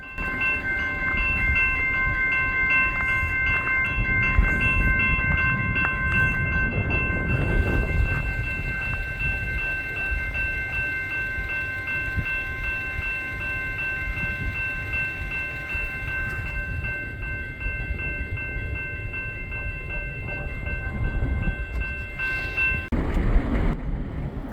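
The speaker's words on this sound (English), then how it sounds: "this is the front half of the train" The front half of a Union Pacific freight train rolls past near a mill on South Main Street in Perry, Kansas, a loud, close, steady rumble of wheels and cars with a sustained tonal ring above it.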